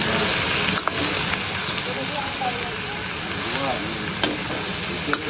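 Garlic sizzles steadily in a hot pan while dinuguan is being prepared, a loud continuous crackle and hiss that runs the whole time with faint talking beneath.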